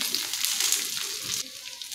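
Grated dry coconut and poppy seeds roasting in a pan give a brief, close, soft hissing sizzle with light stirring, without talk.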